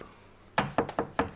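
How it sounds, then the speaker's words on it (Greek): Four sharp knocks on a door in quick succession after a brief quiet pause, close and fairly loud. "Χτυπάει πόρτα."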